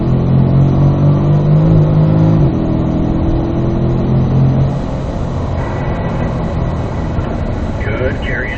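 A Corvette on a track climbs through the gears, its engine droning loud and steady after the shift to fourth, with a voice giving instructions over the engine noise.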